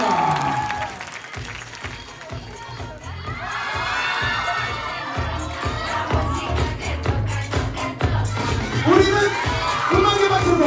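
A crowd at a university department retreat claps and cheers loudly over upbeat music, with shouting voices building and swelling toward the end.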